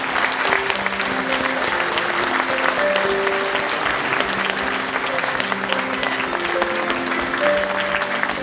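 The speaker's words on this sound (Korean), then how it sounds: "전달될 때 여러분 큰 박수 부탁드립니다" An audience at a university president's inauguration ceremony applauds warmly during a rice donation handover, a dense, sustained wash of clapping lasting throughout, with faint music tones threaded underneath.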